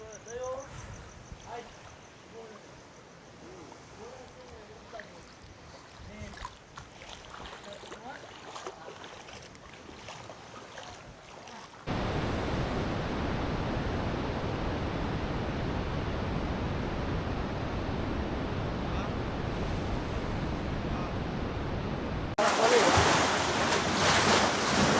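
Floodwater surging strongly during a New Year flood at night, a steady loud broadband rush that grows heavier and closer partway through, with people talking over it early on.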